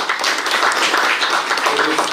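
Audience applause for a tournament team at a school gathering, a dense, steady wash of many hands clapping throughout, loud and continuous.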